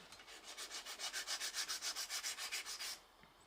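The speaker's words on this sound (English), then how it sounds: "It's like a higher pitched sound when it's acrylic. Yeah, it's a bit more scratchy." Rhythmic back-and-forth filing strokes on an acrylic nail, about fifteen in steady succession, bright and scratchy, close up, then stopping; no voices.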